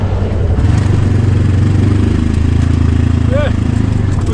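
Kubota Sidekick 850 utility vehicle engine revving steadily and loud while pulling out of a snowy ditch, a continuous mid-pitched drone close by.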